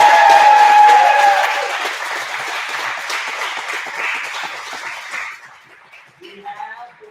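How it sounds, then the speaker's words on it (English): Applause for a black belt presentation, a crowd clapping loudly at first then thinning and fading out, with voices and cheering mixed in and a voice speaking near the end. "Big round of applause, Mr."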